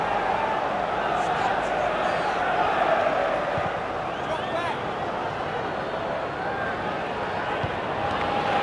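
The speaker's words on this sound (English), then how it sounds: "Listen to this crowd." Simulated stadium crowd from the FIFA 05 football video game, a steady roar of spectators with swelling murmurs and faint chants that fill the whole stretch, with commentary voices mixed in.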